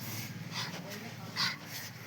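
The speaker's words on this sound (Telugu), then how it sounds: "కుక్కనే" A dog gives a couple of short, high whines, close by and brief, mixed into steady background chatter and breathing-like noise while people talk over it.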